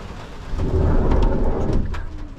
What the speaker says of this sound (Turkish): Çok yağmur Çok yağmur, çok yağmur.